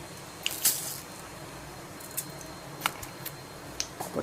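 Mustard seeds, with cumin, splutter in about two spoonfuls of hot oil in a kadai, giving scattered sharp pops and crackles over a soft sizzling hiss.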